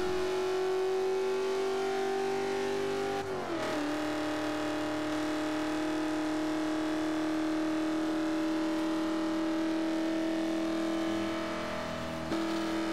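A racing car in a video game holds a high, sustained engine whine down a straightaway, with a quick gear shift around three seconds and another near the end, no talk over it.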